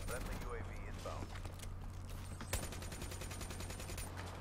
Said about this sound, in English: do work, sentry gun